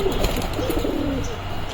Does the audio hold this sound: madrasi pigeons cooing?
yes